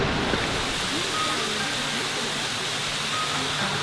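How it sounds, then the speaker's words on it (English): A waterfall heard as a dense, continuous rushing hiss of falling water, steady and fairly loud, with no breaks across the moment. "I think I can hear a waterfall."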